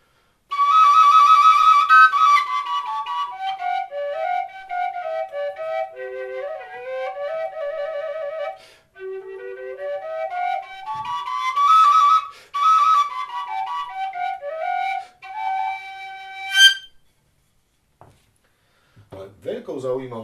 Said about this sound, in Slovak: tak je to vlastne taká jednotónová píšťala, ktorú nazývame tiež burdónom, alebo falošným dvojhlasom, alebo stálym tónom